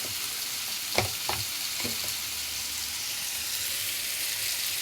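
Onions, tomatoes and spices fry in hot oil with a steady, continuous sizzle, broken early on by a few sharp stirring scrapes and clinks of the utensil in the pan.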